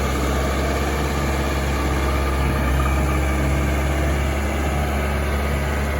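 The engine of a Caterpillar 424 B2 high-flow backhoe loader runs at a steady pace on an earthworks site, a constant loud droning hum with no breaks and no voices.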